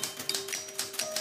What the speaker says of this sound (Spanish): Esta máquina de escribir yo no la cambio por nada